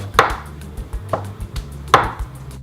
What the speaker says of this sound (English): Chop your dill nice and fine.